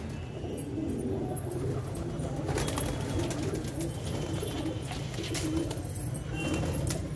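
Racing pigeons for sale in Delhi, a crowd of sixty-five to seventy birds, coo steadily in a low rolling murmur with faint flutters, close and continuous with no talk.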